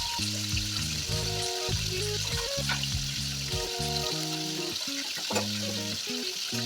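Katla fish pieces fry in hot oil in a wok, giving a constant bright sizzle with small crackles. Soft instrumental music plays steadily underneath the frying.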